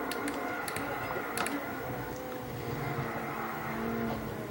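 Race cars in a video game, a Ferrari 599 and a Nissan GTR running three wide, give a steady, dense engine roar that holds at an even level throughout, with a few faint clicks on top.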